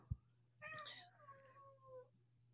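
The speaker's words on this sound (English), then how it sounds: "Your cat is losing his mind in the background." A cat meows loudly in the background, one long drawn-out wailing yowl that rises and trails off, with a soft low hum underneath.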